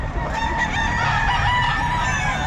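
A White Kelso bull stag rooster crows loudly and close by at a gamefowl market in Bocaue, Batangas sellers. A strong, drawn-out crow holds for a couple of seconds over the low hum of the market.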